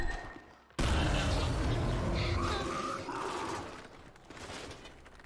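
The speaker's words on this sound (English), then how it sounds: "It also has the ink grenade sound." An ink grenade from the video game Gears 5 goes off with a sudden loud burst, then a dense, roaring, rumbling spread with shifting tonal whines that slowly fades.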